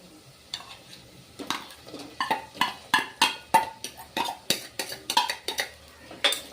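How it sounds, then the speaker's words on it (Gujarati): Small potatoes fry in oil with golden-brown onions for a Kathiyawadi stuffed brinjal dish, a soft sizzle running under a steady series of sharp spoon scrapes and knocks against the pan, close and alone. "બટેકીને આપણે તેલમાં થોડીક વાર ખાવા દઈશું।"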